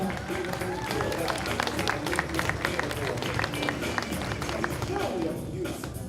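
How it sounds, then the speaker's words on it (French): Audience applause for Miss pageant contestants appearing in swimsuits, a steady dense wash of clapping and crowd noise lasting throughout, with voices mixed in beneath it. "Vous pouvez les applaudir parce que c'est pas évident pour certaines."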